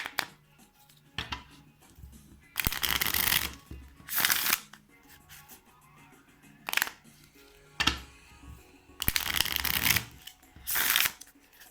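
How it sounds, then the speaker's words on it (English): A deck of playing cards is shuffled by hand in several quick riffling bursts separated by brief pauses, close and crisp with no talk. "I'm going to give them a quick shuffle"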